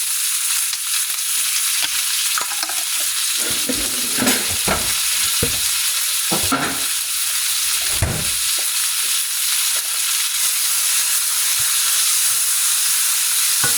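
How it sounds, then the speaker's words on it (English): Onions and garlic fry in bacon grease with a loud, steady sizzle and hiss close by, broken by occasional stirring scrapes and knocks of a utensil in the pan. "I want to get a nice browning on these onions"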